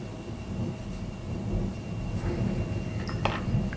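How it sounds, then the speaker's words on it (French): A low, continuous rumble of distant thunder rolls steadily in the background, with a faint, brief rattle near the end. "je ne sais pas si vous entendez en fond, comme un grondement, mais subitement il est en train de se préparer un orage"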